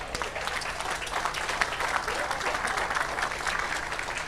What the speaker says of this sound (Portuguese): vamos aplaudir essa vez